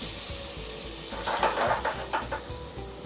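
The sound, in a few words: cucumbers frying in melted butter in a saucepan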